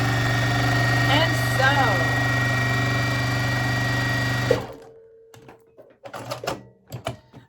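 Home sewing machine running steadily with a 1/4 inch presser foot while stitching quilt block fabric scraps, a loud continuous motor whir that stops abruptly, followed by quieter handling noises and brief talk.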